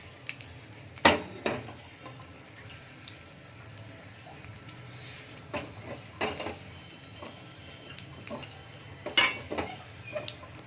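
A kadai wok being swapped on a kitchen stove, giving a few sharp metal clanks and knocks, with quieter shuffling between them and no speech.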